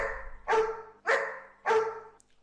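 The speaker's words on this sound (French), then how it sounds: "Écoutons d'abord, lorsque le gain est à 0, les aboiements du chien." A dog barks three times at an even pace, each bark short and clear against quiet, played at unchanged gain as a demonstration of audio effects.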